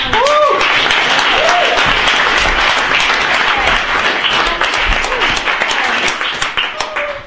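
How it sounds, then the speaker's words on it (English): An audience at a startup weekend pitch event gives a team a loud, close round of applause with cheering voices mixed in, and the clapping thins into scattered claps at the end. "Everybody give them a round of applause."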